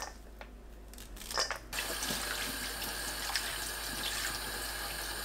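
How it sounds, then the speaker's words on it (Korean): Running tap water splashes over perilla leaves being washed in a kitchen sink, a steady close rush that starts with brief handling sounds before the full flow takes over. "깻잎은 줄기 자르고 깨끗하게 씻어주세요."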